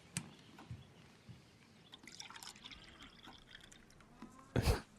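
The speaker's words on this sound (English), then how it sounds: "They pour the milk for him." Milk pours into a glass in a quiet film scene, a faint liquid trickle and drip under low room sound, ending in a louder splashing burst near the close.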